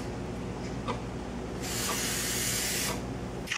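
An aerosol insect spray hisses in one steady burst of a little over a second, fairly close and loud, after a short stretch of room noise, with a quick second puff at the very end.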